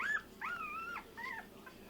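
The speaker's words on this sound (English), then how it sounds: "Hey, cute puppies." Young puppies whimper close by in a series of high, rising and falling whines, three or four short cries within a couple of seconds, with no one talking over them.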